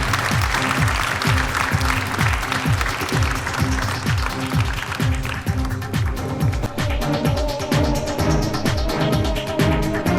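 Audience applause greeting the top five finalists at a Miss Universe Croatia pageant: dense, sustained clapping from a large crowd filling the hall, steady and loud throughout with no voices over it.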